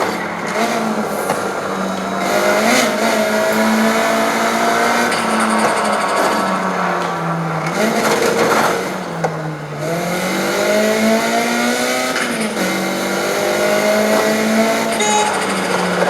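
A race car in the video game Need for Speed Heat, its engine revving loud and close with rising and falling pitch through gear changes, plus brief tire noise. No one speaks.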